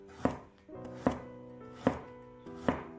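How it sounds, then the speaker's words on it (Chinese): A knife chops a ham sausage into small dice on a cutting board, four firm, evenly spaced knocks about a second apart, close and clear with no talking. "再准备一根火腿肠，给它切成小丁"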